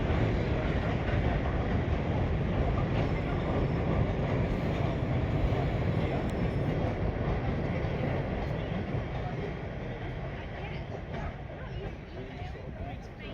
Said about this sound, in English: the Home Fleet Austerity rolls by with a rake of tankers bound for Loughborough